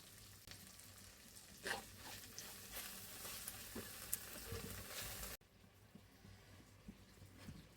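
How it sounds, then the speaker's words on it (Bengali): Bitter gourd and potato sautéed with shrimp, ginger-garlic paste, salt, chilli and turmeric powder: a soft, low sizzle with occasional light stirring taps that cuts off abruptly before the end. "আমি করলা আর আলুটা কষিয়ে নিলাম"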